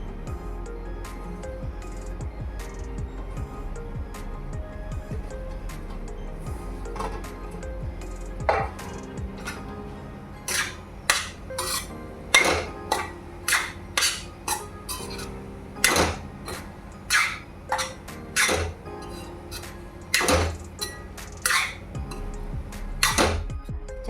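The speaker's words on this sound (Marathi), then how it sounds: "त्याच तुपामध्ये मी हे सर्व मिश्रण घालते आणि मंद गॅसवर पाच सहा मिनिट छान असं भाजून घेते" A metal spoon scrapes and knocks against a kadhai as a mixture is stirred and roasted in ghee over low heat, with a steady low sizzle under sharp, irregular clinks that grow more frequent.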